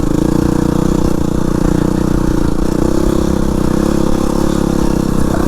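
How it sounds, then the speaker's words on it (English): A Yamaha WR250R dirt bike engine lugs at low revs while climbing uphill in second gear, a steady, dense, close-up rumble with mechanical clatter throughout and no voices. "I really should be in first because I feel the bike lugging."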